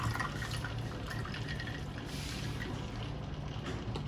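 Cold water is poured into a batch of detox lemonade, a steady close liquid trickle and splash lasting several seconds, with no voices.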